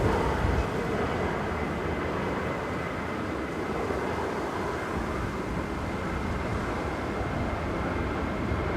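A Ryanair jet departs runway 05 left at Manchester Airport as a constant, broad roaring rush heard from some distance, steady and unbroken with no voices over it.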